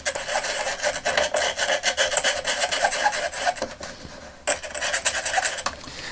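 Fibre brush scrubbing rust and grime off the battery contacts of a vintage Action Man Solar Hurricane toy, a steady close rasping rub in quick strokes, with a brief pause near the middle before the scrubbing resumes.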